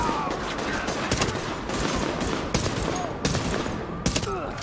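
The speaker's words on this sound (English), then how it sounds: "I'm being shot from behind." Gunfire in The Division, a dense, continuous crackle of shots with sharper close cracks standing out every second or so, loud and busy throughout.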